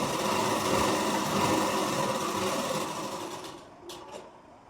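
A sewing machine stitches a princess-cut blouse in a fast, steady whirring run that slows and fades near the end, followed by a couple of faint, high clicks.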